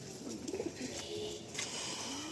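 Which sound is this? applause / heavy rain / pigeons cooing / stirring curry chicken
pigeons cooing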